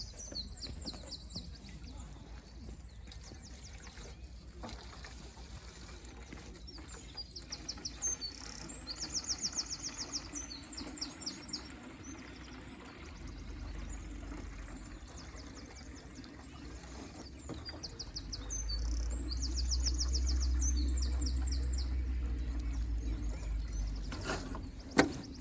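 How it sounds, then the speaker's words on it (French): Birds sing outdoors in short, repeated high chirping phrases scattered through the scene, fairly distant, over a steady insect hum with occasional soft handling sounds and a low rumble building toward the end. "J'espère que vous entendez les oiseaux."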